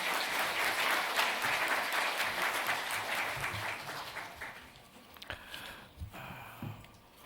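Applause in a church welcoming a pastor at an ordination service, a full round of many people clapping that gradually tapers off into scattered claps and room noise.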